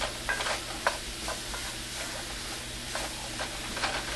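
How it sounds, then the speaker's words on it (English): Leftover cooked rice broken apart and stirred in hot oil in a pan, giving scraping spoon strokes and soft crackles over a steady low sizzle, with no talking. "Get that separated and get it coated with the oil so every single grain is nice and separate."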